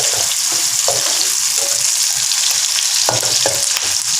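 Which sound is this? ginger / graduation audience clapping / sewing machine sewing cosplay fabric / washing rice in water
ginger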